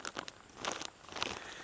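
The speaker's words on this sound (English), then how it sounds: "In this old plastic bag, I have a bunch of pre-cut cleaning patches and some Q-tips in here." An old plastic bag holding pre-cut cleaning patches and Q-tips crinkles and crackles in uneven bursts as it is handled up close, with no talking.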